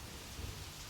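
Steady heavy rain falls in a monsoon downpour, a dense continuous wash of drops with a low rumble beneath, constant in level and with no voices.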